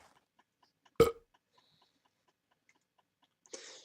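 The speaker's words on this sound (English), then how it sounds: "then rests a hand on the stomach and lets out a large belch." A large, loud belch from a character in a visual novel video game, one abrupt burst near the start, then quiet, with a second, softer rumbling burst near the end.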